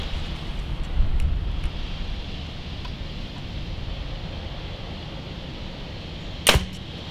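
A Hoyt Klash compound bow, 2018 model, releases a shot with one sharp string twang near the end, standing out over steady outdoor wind and background rumble.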